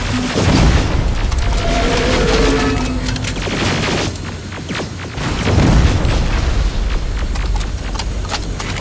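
A rocket blast in the Terminator: Resistance video game lands amid heavy combat, with loud booms and rumbling gunfire-like bursts recurring over several seconds.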